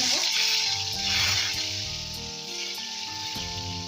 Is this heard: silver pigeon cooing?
no